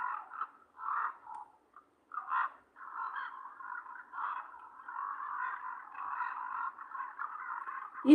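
Common ravens give gurgly, croaky calls in a faint, distant series of short, repeated croaks, with no talk over them.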